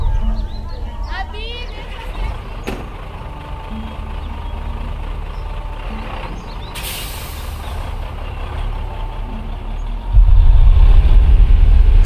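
A truck drives along, its steady engine rumble and road noise sustained throughout, with a hiss like an air brake early on and the low rumble swelling louder near the end, mixed under a radio drama.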